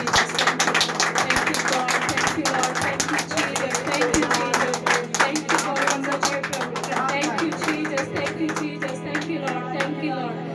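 A congregation at a Friday fasting prayer meeting claps loudly in a fast, even rhythm that runs on for about ten seconds over a steady low musical drone.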